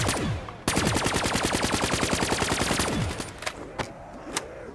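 Rapid automatic gunfire in Black Ops 3 Zombies, a loud, sustained burst of evenly spaced shots running about two seconds. It then breaks into a few scattered single shots and quieter action sounds, with no talk.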